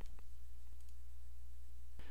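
A single crisp computer mouse click sounds near the end of a quiet stretch, with a faint earlier tick, against a low steady hum while working with layer masks in photo editing software.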